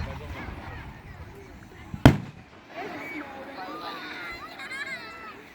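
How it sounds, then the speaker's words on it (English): One sharp, loud blast from a big firework cracks out midway, nearby, its rumble fading quickly while people chatter before and after at a backyard fireworks display in Mexico, Missouri. "These are really big fireworks."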